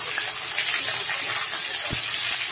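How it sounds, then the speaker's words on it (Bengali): Chopped onion sizzles in hot oil in a wok with dried red chillies and bay leaf, giving a steady, close, broadband hiss that runs evenly throughout, with no talking. "পেঁয়াজটা ভালো করে এবার ভেজে নেব।"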